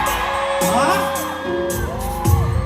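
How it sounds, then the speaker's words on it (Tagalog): A concert crowd at a Street Boys show gives loud whoops and shouts in rising waves, with a voice on the mic calling out over the noise. "Isang mga malakas na sigaw dyan."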